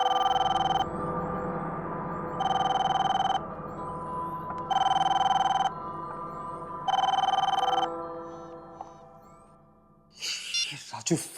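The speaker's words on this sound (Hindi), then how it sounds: "फोन क्यों नहीं उठा रहा है?" A telephone rings in a shop in a horror drama, four evenly spaced bright electronic ring bursts sounding close and loud, followed by rustling and breathing at the end.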